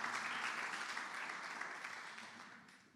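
A church congregation applauds the Lord together, a dense, steady wash of clapping from start to finish that fades gently toward the end.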